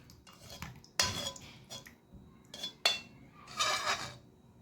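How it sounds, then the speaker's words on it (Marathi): Milk being stirred into mango pulp for kulfi, with a spoon clinking and scraping against a metal pot in a few sharp knocks and softer swirls, close and fairly quiet, no talking. "ह्या आंब्याच्या रसात हा अर्धा भाग घालतोय आणि व्यवस्थित ढवळून घेतोय"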